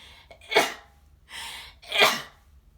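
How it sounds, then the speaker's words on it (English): Three sneezes in quick succession, close and loud, the second a softer sharp breath between two explosive bursts. "Them sneezes came out of nowhere, too."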